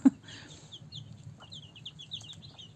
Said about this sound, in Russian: Вон курочка